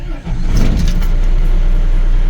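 An overland truck's engine cranks and catches, quickly settling into a loud, close, steady rumble.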